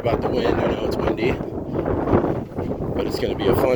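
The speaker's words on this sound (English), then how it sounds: "sorry about the wind, I know it's windy" Strong gusts of wind buffet the microphone in a desert canyon in Canyonlands backcountry, a loud, constant roar that rises and falls, with a person talking over it.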